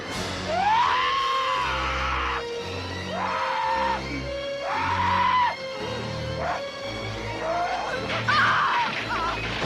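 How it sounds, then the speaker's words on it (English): A monster in the horror film The Funhouse screeches in long, wavering cries, repeated about four times with brief gaps, over a pulsing low music score. "And lucky for Amy, his entire plan seems to consist of standing still and screeching at her for a very long time."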